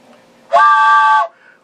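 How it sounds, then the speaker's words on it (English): A steam-style train whistle sound effect sounds once, a loud steady harmonic tone lasting under a second, clean and alone. "train whistle."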